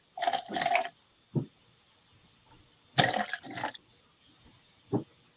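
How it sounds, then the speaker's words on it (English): Water splashes into a Pioneer Woman measuring cup in two short pours, separated by faint drips and a few soft taps. "So I'm going to put about 45 grams of water in here."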